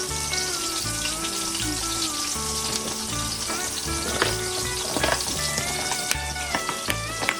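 Thinly breaded fried chicken pan-frying in oil, a loud steady sizzle with crackling pops and light clinks of a utensil throughout, no talking.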